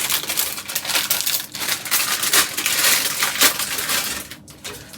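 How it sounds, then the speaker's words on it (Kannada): A Maggi noodle packet is handled and cut open up close, with continuous crinkling and rustling of the plastic wrapper and short snipping bursts. "ಪ್ಯಾಕೆಟ್ ತಗೊಂಡು ನೀಟಾಗಿ ಕಟ್ ಮಾಡಿಬಿಟ್ಟು"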